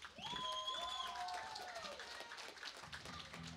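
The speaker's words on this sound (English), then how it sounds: "Give me a big round of applause" At a live rock show, an audience applauds for a young boy called up to the stage, a steady wash of clapping and crowd noise with whistle-like tones and voices mixed in.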